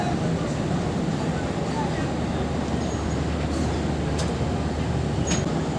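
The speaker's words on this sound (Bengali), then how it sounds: "একদম 4:30টায় আমাদের ট্রেন আবার ছেড়ে দিল।" Modhumoti Express train pulling out of Kamalapur station, a steady low rumble of rolling carriages filling the whole stretch with constant loudness, with faint brief squeals or clanks near the end.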